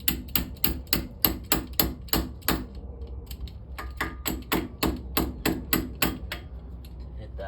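A hammer drives a cotter pin into a ball joint on a 1981 Toyota Celica, striking about twenty sharp metallic blows in quick, steady bursts, close and loud, with a short pause midway.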